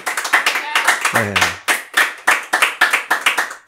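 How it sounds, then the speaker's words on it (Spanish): A talk-show studio audience claps for Dr. Anthony Choy in a fast, steady, rhythmic beat of sharp hand claps that runs throughout, with a brief voice heard partway through. "un fuerte aplauso para el doctor Choi, por favor"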